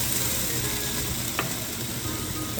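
Beef browning in a pot for stock, a steady close-up sizzle with a faint stirring scrape, no talk.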